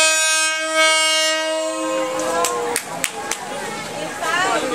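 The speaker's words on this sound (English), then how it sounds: "Train is passing." A train horn blares loudly, then the train rushes past very close through a market in Thailand with rattling, clanking wheels and rumbling, while voices chatter underneath.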